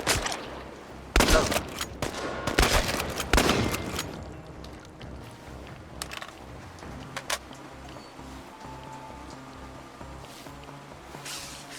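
Gunfire in the video game Chernobylite: several loud bursts of shots in the first few seconds, then a few sparser, fainter shots over a low in-game background.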